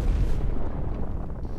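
A magical explosion from the Konosuba anime rumbles as a dense, heavy boom, loudest at the start and then rolling on as a sustained low roar for the rest of the moment, with no talk over it.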